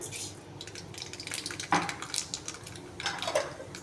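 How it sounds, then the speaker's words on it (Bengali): Black mustard seeds spattering in hot oil in a kadai: a soft, crackly frying hiss with scattered pops and light utensil clatter, fairly quiet and close. "কড়াইয়ের তেলটা গরম হয়ে গেছে, এর মধ্যে আমি 1 চামচ কালো সর্ষে দিলাম"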